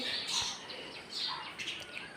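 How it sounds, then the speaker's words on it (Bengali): House sparrows chirp near large open windows of a home, with faint, quick, repeated tweets scattered across a couple of seconds over a soft background hush. "চড়াই পাখিগুলো দেখো কিভাবে দৌড়াদৌড়ি করছে সারাক্ষণ কিচির কিচির কিচিরমিচির করছে"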